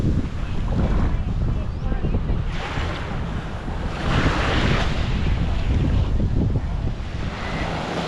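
Ocean surf rolling onto Samae Beach on Koh Lan, Thailand, with steady wind buffeting the microphone; a continuous loud wash of breaking waves swelling and easing over several seconds, with no voices.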